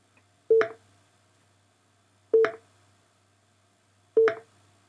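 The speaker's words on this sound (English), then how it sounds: "it will play the collide.wav sound effect repeatedly, and after 5 seconds, it will stop playing it" A short collision sound effect from a Cocos2d-x game plays three times at even intervals about two seconds apart, each a crisp, loud impact-like blip with a quick decay, over a quiet background.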